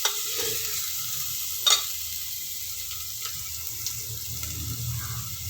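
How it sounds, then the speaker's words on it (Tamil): Carrots and other vegetables sautéing with a little salt in a pan, stirred now and then, giving a steady soft sizzle with light scraping clicks and a brief louder clatter near the start. "நல்லா வதங்குறதுக்காக கிளறி விட்டுக்கோங்க"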